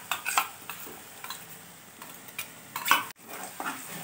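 A spoon stirs spice masala with yogurt batter in a pan, scraping and clinking against the metal in a steady rhythm over a soft sizzle, close and alone.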